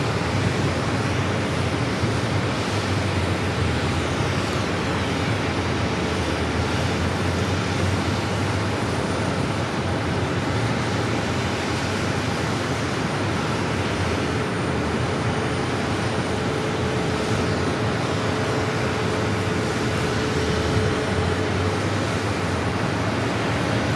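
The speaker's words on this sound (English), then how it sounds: "This is Frontier 2105 coming in from Denver on the A320neo." A Frontier Airbus A320neo arriving at Phoenix airport from Denver, a steady broad jet roar that holds loud and unbroken throughout, heard alone without talking.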